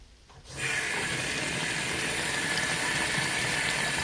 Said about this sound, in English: let's get the cold water going